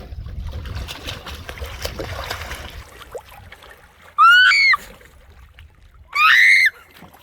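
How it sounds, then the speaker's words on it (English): Two high, wavering shrieks ring out a couple of seconds apart, loud and piercing, over a faint watery background. "That's the sound of the Shrieking Eels."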